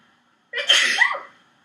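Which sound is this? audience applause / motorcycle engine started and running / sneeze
sneeze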